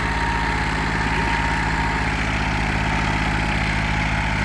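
A 40-horsepower tractor engine, a 2013 model in working order, idles steadily at close range with an even, rapid low throb and a constant mechanical hum. No speech is heard.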